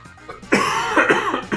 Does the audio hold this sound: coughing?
yes